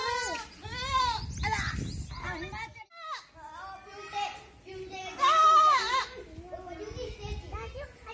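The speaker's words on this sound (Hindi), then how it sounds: "ये क्या है, छेली है, छेला है, बकरी है, बकरा है" A goat bleats at a farm, repeated wavering cries heard close by amid the voices and chatter of children playing around it.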